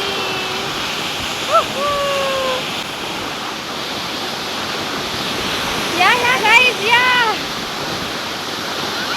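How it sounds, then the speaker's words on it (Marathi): Water roars in a steady broadband rush at Bendewadi Waterfall near Khindi, Lonavala, constant and close, while people briefly call out over it. "जबरदस्त हवा लागते या धबधब्याची."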